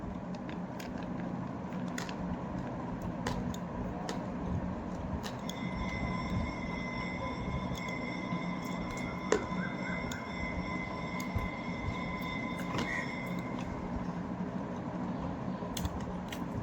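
Steady low rumble of a train rolling along rails, heard from inside a passenger carriage on a trip from Ongole to Chennai, with faint tonal whine and occasional clicks; continuous and moderately quiet, no talk.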